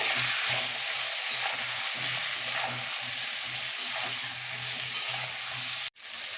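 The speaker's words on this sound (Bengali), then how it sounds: "এবার একটু হালকা ভেজে নিতে হবে সবজিগুলো একসাথে" Steady, close sizzling of potatoes, aubergine and beans frying lightly in a pan with a little turmeric, with occasional stirring scrapes, continuing until an abrupt brief cutoff near the end.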